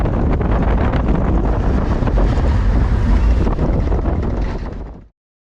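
Looping roller coaster at Blackpool Pleasure Beach, running through a loop forwards and backwards: a loud, steady roar of wind and rushing rumble that fills the clip, then cuts off sharply near the end.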